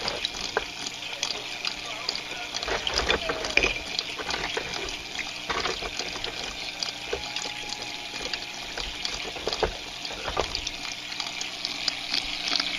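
Small water pump running in a pipeless snail aquaponics tank, a quiet steady trickle and splash of water with faint gurgling bursts, close and continuous.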